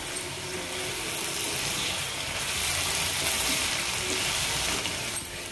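Parval bhujia, pointed gourd vegetables, simmers in a pan over a low flame with a steady, soft sizzling hiss and a faint clink near the end.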